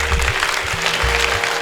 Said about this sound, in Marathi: एकदा 2 मिनिटासाठी टाळ्या वाजवा.